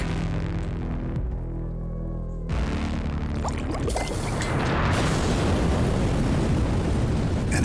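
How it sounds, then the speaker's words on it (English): An explosion in a video game trailer, a heavy rumbling burst that swells midway and rolls on loudly over an underlying music score. "an explosion lights up the night."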